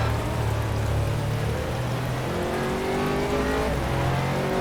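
Rain and road spray hiss continuously over the engine drone of an Aston Martin GT3 race car on the Sepang circuit in the rFactor racing game, steady and fairly loud with no voices.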